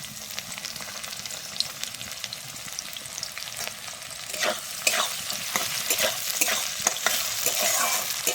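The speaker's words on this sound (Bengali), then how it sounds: "এরপরে আমি দিয়ে দিচ্ছি কুচানো পেঁয়াজ" Chopped onions fry in a pan with a constant sizzling hiss, and spatula scrapes grow more frequent midway through.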